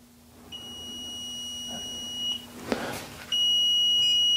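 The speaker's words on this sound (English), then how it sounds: "What is the alarm? Multi-phase integration error, communication error." A Bluetti AC300 power station sounds a sustained, piercing electronic alarm tone for a communication error. It stops briefly, then resumes louder and steady over a low hum, with a short rustling noise in the gap.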